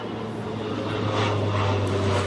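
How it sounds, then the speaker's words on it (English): A propeller airplane passes at a distance outdoors, a steady low engine drone with a faint rising whoosh, continuous and moderately loud throughout. "As the plane flies by over there"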